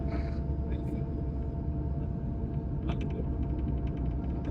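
A helicopter flies over Hajj pilgrims near Makkah, heard as a constant low, rumbling drone that fills the whole stretch.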